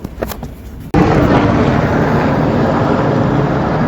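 After a quiet moment, a loud roar of helicopters suddenly swamps everything, a thick rumbling wash that stays constant and close.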